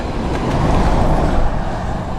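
A truck rumbles past at Dublin Airport, a steady, loud, broadband roar of engine and road noise that holds evenly throughout with no voices.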